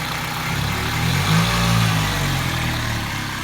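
A Toyota Celica VVTi with a customised exhaust idles steadily, a low, throaty rumble with a slight swell in the middle, no voices over it.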